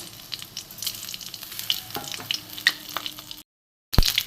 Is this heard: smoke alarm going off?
no